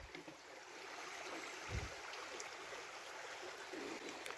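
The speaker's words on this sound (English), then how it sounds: "that'd be a nice little stream to get some water out of" A small mountain stream on the Great Divide Trail gives off a steady, faint rushing wash. It sounds continuous and somewhat distant, with no voices.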